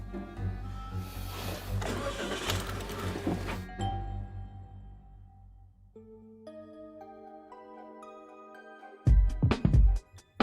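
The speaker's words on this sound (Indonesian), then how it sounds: "Ya udah pindahin mobil lu sekarang" A parked car's engine cranks and turns over amid steady broadband noise, followed by a quieter stretch with tonal chimes, then a few loud thuds and clunks near the end.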